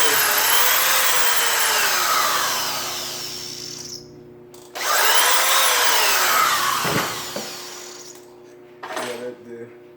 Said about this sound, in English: let me push the drill through there again